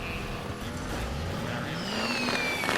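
A car in the video game Watch Dogs 2 drives with a steady, loud engine roar, tires squealing in long rising and falling whines, continuous and close with no talk.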